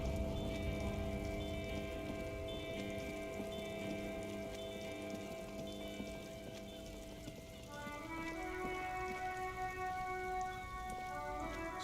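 Rain falling in the Disco Elysium video game, heard inside a vehicle stuck in a traffic jam: a steady, soft patter under a layered ambient musical drone with sustained tones, continuous and fairly quiet.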